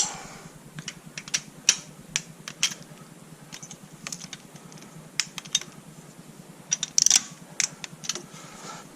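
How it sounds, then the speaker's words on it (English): A wrench ratchets down bolts on the upper intake plenum of a Buick Lucerne with a 3.8 engine, giving quick, sharp metallic clicks in irregular bursts, close and fairly loud. "since I still have the wrench out, we'll just go ahead and"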